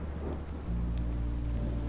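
Steady rain pours in the Minecraft Story Mode video game, with a low rumble of thunder swelling partway through, dense and loud.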